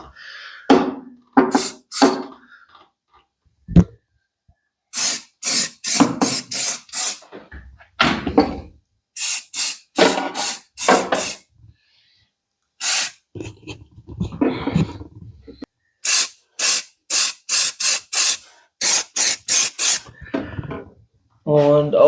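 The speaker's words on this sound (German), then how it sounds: "Also wir sprühen jetzt auch hier nochmal ein bisschen so die Eckwangen ein hier." Nigrin rust protection is sprayed onto a Vespa LX scooter in repeated short, hissing aerosol bursts, some in quick rhythmic runs, close to the microphone, with someone talking in between.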